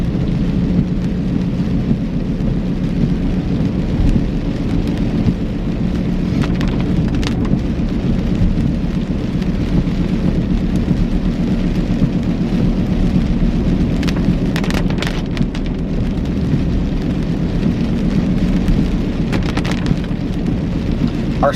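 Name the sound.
rain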